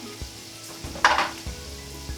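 Vegetables sautéing for a vegan paella: a soft steady sizzle in a pan with a brief louder hiss and clatter as food is stirred, then quiet frying with a couple of light knocks.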